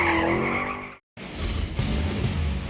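Car tires squeal loudly and continuously while drifting smoky donuts across a lot, a harsh sustained screech that cuts out for a split second before resuming with engine roar underneath.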